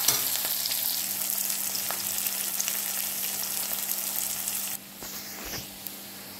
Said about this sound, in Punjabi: ਸਾਨੂੰ ਪਿਆਜ ਨੂੰ ਅਸੀਂ ਥੋੜ੍ਹਾ ਜਿਹਾ ਭੁੰਨਾਂਗੇ ਜਿਹਦੇ ਤੱਕ ਕਲਰ ਜਿਹੜਾ ਹਲਕਾ ਜਿਹਾ ਬਰਾਊਨ ਹੋ ਜਾਏਗਾ